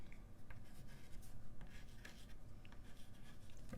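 A pen draws dots onto a domino outline on paper, giving close, steady scratchy writing strokes with small taps throughout.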